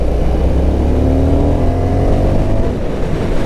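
An Indian FTR1200 motorcycle engine with an Akrapovic exhaust revs steadily and loudly, a dense low rumble that carries through the whole stretch with no voices over it.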